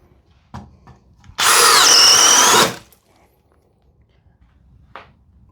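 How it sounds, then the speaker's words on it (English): An 18 V cordless drill with a large bit whines loudly for just over a second in one burst, with a few faint clicks and knocks before and after in a quiet room. "We need a drill that's underpowered."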